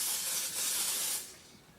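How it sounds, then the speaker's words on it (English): A light mist of hairspray hisses onto freshly curled hair in one soft, close burst lasting just over a second before tapering off quietly. "So I'll spray the curls without touching them, without breaking them apart."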